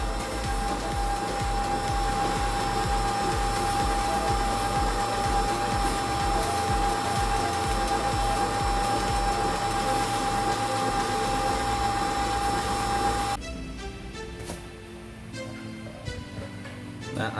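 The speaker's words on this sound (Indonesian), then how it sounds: "Sambil tungguin telurnya di mixer sampai kembang" Electric mixer whipping eggs until fluffy for a Lapis Surabaya layer cake, a loud steady whirring drone that runs continuously, then drops to a softer, thinner whir near the end.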